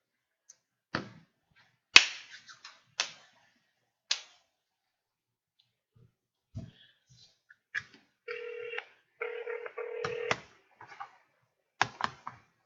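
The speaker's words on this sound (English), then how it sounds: "I can hear the phone ringing." A telephone rings on a call, heard as a repeating electronic ringback tone in steady bursts, preceded by scattered clicks and taps from handling equipment; fairly quiet and with no talk over it.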